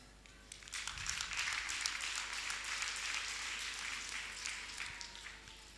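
Applause and clapping from a wedding crowd, a dense, steady patter of many hands that swells in quickly and holds at an even level for several seconds.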